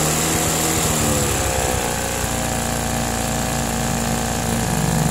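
Motorcycle engine revved up with the throttle during a charging-system voltage check, a loud, steady mechanical roar that holds through the whole stretch with a brief rise in pitch near the start.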